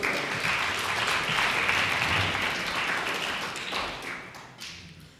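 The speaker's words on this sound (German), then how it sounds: "nochmal einen Applaus" An audience claps in dense, sustained applause at a speech event, loud and close at first, then thinning slightly as it tapers off, with no voices over it.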